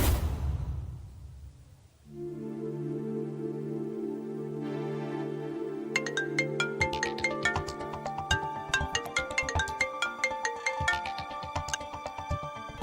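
A phone ringtone plays in a Hindi TV serial: a sustained electronic chord, then a bright melodic tune with rhythmic plucked notes that repeats clearly and loudly, with no talking over it.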